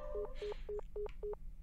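In the horror game Kaii Shoukougun 3, a telephone keypad beeps five times in an even rhythm, each tone short and clean over a faint background hum.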